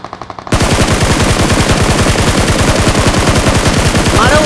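Rapid automatic gunfire in a PUBG-style battle royale game, loud and close, with a few quick shots first and then a long, unbroken burst of evenly spaced rounds.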